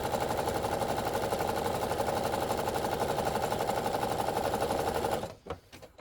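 A sewing machine stitching a fabric steering wheel cover around its edge, a loud steady rapid mechanical whir running continuously for about five seconds before stopping abruptly, followed by a few handling clicks.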